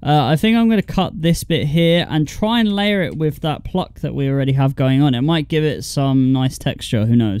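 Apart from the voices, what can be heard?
No everyday noises stand out.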